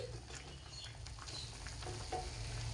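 Milk mixture bubbling and simmering in a pan, a continuous soft sizzle and low rumble with faint stirring clicks, close but quiet, no voices.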